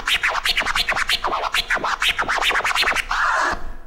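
Turntable scratch tears on a record, a rapid run of sharp rhythmic scratches that shifts from single to double time, ending in a sustained smeared tone, loud and alone.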